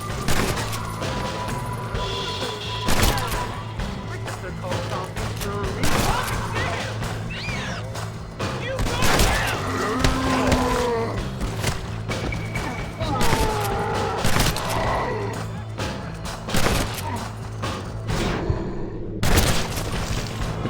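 Gunfire and booming shots ring out while fighting zombies in Red Dead Redemption: Undead Nightmare, with repeated sharp bursts scattered over a dense game soundscape of music and effects, loud and close throughout.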